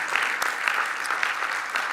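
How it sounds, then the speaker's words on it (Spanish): A church congregation gives a brief round of applause in praise, a short, even clatter of many hands clapping at moderate volume. "Dale un aplauso de alabanza al Señor."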